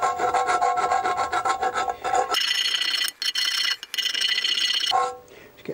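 Metal on a Honda CBR1000F motorbike exhaust is scraped clean ahead of welding, with loud, close rasping strokes that shift into a harsher, higher grinding scrape before easing off.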